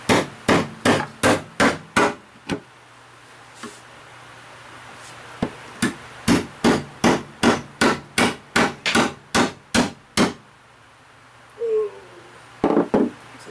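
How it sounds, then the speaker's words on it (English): A chisel is hammered into glued and screwed reclaimed timber, with sharp, loud, close blows in fast rhythmic runs of several strikes, then short pauses and a few scattered knocks. "it looks like it's going to take some brute force now. So I do have a chisel here."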